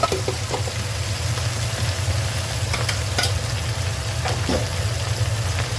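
Crab and shrimp frying in a pan with a steady close sizzle, plus a few stirring scrapes and clinks, no voices.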